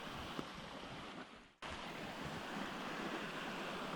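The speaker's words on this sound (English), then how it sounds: "we just walk down to a tiny little river off the side of the road." Small clear river flowing beside a country road: a steady, broad rushing wash of water, fairly quiet, with a brief dip partway through before the flow noise returns evenly.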